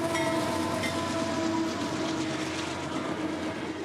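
CSX freight train 339 on the Brewster subdivision in Florida's Bone Valley rolls steadily past at close range, a continuous loud rumble with wheel and rail noise, and no voices.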